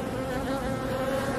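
Honeybees in a Norwegian hive buzz steadily around their queen, a dense continuous drone with a strong hum that stays close and even throughout, with no voices.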